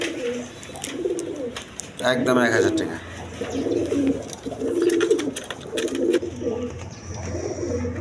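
A pair of big red Maltese pigeons coo in low repeated rolling phrases close by, while a person talks over them.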